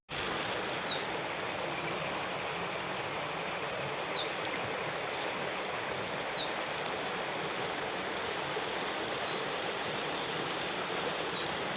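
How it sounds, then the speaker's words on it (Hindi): Heavy rain pours down outdoors in a hillside village, a steady, dense wash of hiss that holds throughout, with a few faint high bird chirps cutting through now and then. "अभी यहाँ पे बाहर बहुत ज़्यादा बारिश भी आ रही है"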